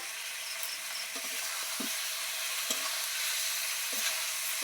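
Stuffed pointed gourds (potol dolma) being stirred in a pan, a steady sizzle and hiss with occasional soft scrapes and knocks of the spatula, close and even, no voices.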